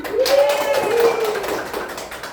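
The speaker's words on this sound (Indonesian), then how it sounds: "Yuk, tepuk tangan." Students in a classroom clap their hands in a short burst while voices chant or call out over the claps.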